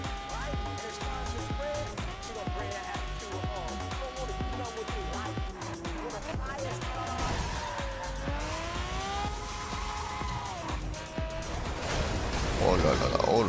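Race car in the video game The Crew on Route 66, taking a turn at high speed with engine whine, shifting revs and tire squeal, under steady French commentary.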